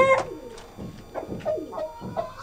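Several soft, throaty pigeon coos repeat in an irregular rhythm, close by and fairly quiet, with no voices.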